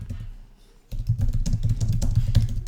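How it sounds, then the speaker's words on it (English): Keys clatter on a computer keyboard in a quick, steady run of close taps after a brief quiet start, with no voices. "So I'm going to type in here,"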